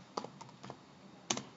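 A command is typed on a computer keyboard: a handful of light, irregular key clicks, faint and close, with no talking.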